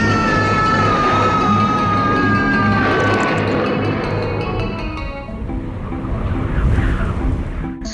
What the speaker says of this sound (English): Why is this so foolishly windy?